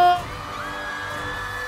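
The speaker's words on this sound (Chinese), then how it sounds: "让我听见你的欢呼" A large crowd cheers and whoops at an outdoor street roadshow for a TV variety show in Changsha, a steady, loud roar of many voices that swells in after a brief opening tone.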